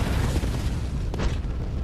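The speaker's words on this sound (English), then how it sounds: "So I'll just come chuck a firebomb at this guy." A firebomb goes off in the video game Bloodborne with a loud, dense roaring burst that fills the whole moment. A brief crackling flare rises near the end.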